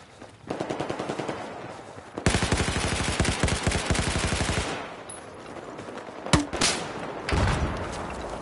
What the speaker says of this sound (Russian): где-то стрелял, а где, не пойму